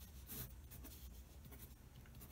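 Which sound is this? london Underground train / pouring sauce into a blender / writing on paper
writing on paper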